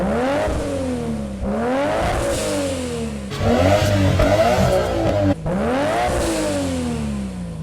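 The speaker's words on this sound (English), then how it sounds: "This car, more or less, sounds like the Too Fast, Too Furious Skyline when it's revving in the film." A Nissan Skyline GT-R engine revs hard and close, rising and falling in repeated sweeping pulls with a brief dip between bursts and a loud, steady roar throughout.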